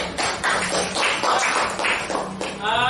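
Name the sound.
classroom clapping hands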